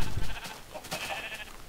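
Minecraft lambs bleat in a short, high, wavering call at moderate volume, one main cry with a brief tail, no voices over it.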